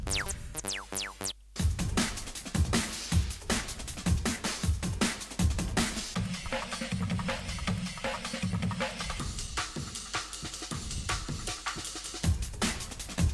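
Looped electronic beat from two groovebox looper tracks, with punchy drum hits and layered tones repeating steadily, loud and continuous after a brief opening sweep.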